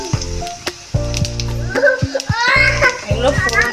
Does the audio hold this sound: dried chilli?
yes